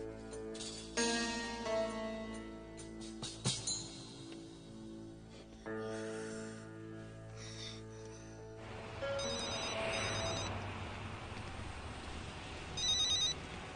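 A telephone rings faintly, in short repeated bursts over a quiet indoor backdrop, with a brief louder rise near the end.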